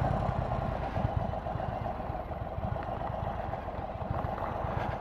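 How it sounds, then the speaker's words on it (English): An Indian Chief Dark Horse motorcycle with its 116 engine runs at a steady low, throbbing rumble, moderately loud and continuous, with no voices present. "The 116 engine in this, I rode in the Springfield and really liked that engine. I really like this engine. I just love the way it pulls."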